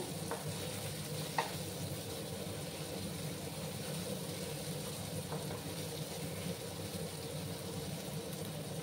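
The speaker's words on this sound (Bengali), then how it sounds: "আর পেঁয়াজগুলো আর একটু ভাজা হবে" Onions and tomato are stir-fried in a pan for a lentil curry, giving a soft, steady sizzle with a couple of faint utensil taps, no voices.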